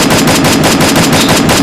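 Loud, rapid burst of automatic gunfire in a video game, shots in a fast even rhythm filling the whole short stretch, close and intense.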